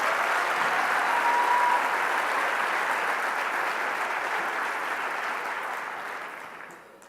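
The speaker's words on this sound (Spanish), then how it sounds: "Un aplauso muy fuerte para él." Sustained applause from a large audience at a Podemos political rally, loud and steady for about seven seconds before fading out near the end, with no speech over it.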